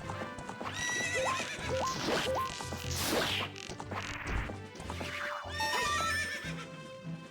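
A horse whinnies loudly in The Legend of Zelda: Ocarina of Time over steady clip-clop hoofbeats, with whooshes and sharp crashing hits mixed in as enemies attack, all busy and continuous.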